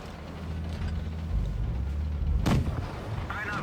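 Tank guns fire in World of Tanks, with a heavy rumbling engine bed and a sharp booming cannon shot partway through, loud and close, followed by a fainter rattling tail.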